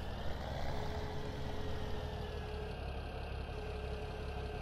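Old tractor engine idling in Farming Simulator 17, a steady low rumble with a faint whine held evenly throughout, close and continuous with no talk.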